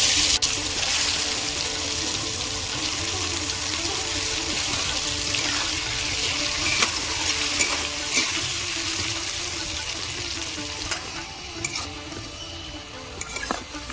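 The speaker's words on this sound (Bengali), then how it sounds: "কড়া বসিয়ে দিয়ে কড়ায় তেল দিয়েছি তেল গরম হয়ে গেছে আলুগুলো ভেজে নেব" Potato slices fry in hot oil in a kadai, giving a loud, continuous close sizzle with faint stirring scrapes throughout and no voices.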